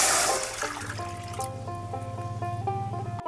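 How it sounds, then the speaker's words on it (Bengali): Water pours into a cooking pan on the stove, a splashing rush at first that settles into a steady, rising trickle as the pan fills, close and fairly loud with no talking. "কড়াতে এখন জল দিচ্ছি"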